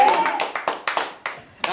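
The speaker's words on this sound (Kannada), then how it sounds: "ಹೊಡಿ ಚಪ್ಪಾಳೆ." Sharp hand claps, about seven of them, come in an uneven rhythm, close and loud, with a voice mixed in among them.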